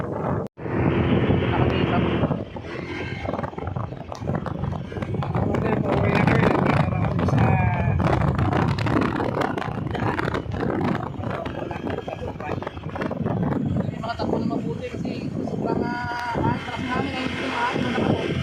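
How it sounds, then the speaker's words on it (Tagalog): Strong wind roars and rumbles against the microphone for the whole stretch, loud and constant, with people talking faintly underneath. "ang lakas ng hangin dito."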